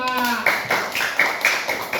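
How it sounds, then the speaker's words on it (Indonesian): A fifth-grade class of children claps together in a classroom, a few rhythmic group claps at a brisk even pace, close by, following a voice at the start. "Tepuk tangan untuk kelas 5."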